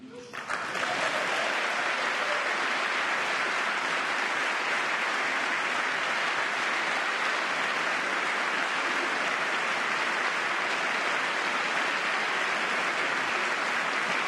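Applause fills the chamber during a State of the Union address. A large crowd breaks into loud, sustained clapping that starts abruptly and holds steady at full strength, with faint voices mixed in.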